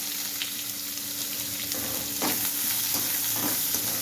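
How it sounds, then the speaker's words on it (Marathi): Curry leaves and chopped onion fry in hot oil in a kadhai, a steady close sizzle with occasional stirring scrapes over a constant background hum. "छान लालसर होईपर्यंत कांदा परतून घ्यायचा."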